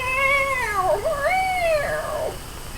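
A cat meows loudly and close, two drawn-out, wavering cries that rise and fall in pitch, with no talking.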